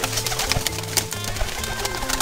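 A flock of domestic high-flying pigeons cooing close by, soft repeated low coos overlapping amid steady background hum and scattered clicks, with no talking.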